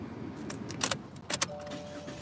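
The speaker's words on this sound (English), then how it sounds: "Better start the car before the battery dies or something." Car keys jangle and clink with a couple of sharp metallic rattles inside a parked car, followed by a faint steady electronic tone. Heard close and alone, with no engine turning over.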